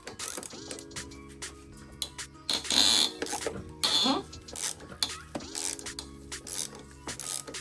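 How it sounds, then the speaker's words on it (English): Flexible ratcheting wrench loosening fork clamp bolts on a crashed Suzuki GSX-R 750 motorcycle, giving loud, close bursts of rapid clicking ratchet strokes with brief pauses between them. "with this flexible ratcheting wrench"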